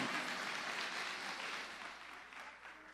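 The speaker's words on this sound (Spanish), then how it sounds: "denle un aplauso a su pastor, denle un aplauso" A church congregation applauds their pastor in a steady, dense wash of clapping that holds for about three seconds and fades slightly toward the end, with no voices over it.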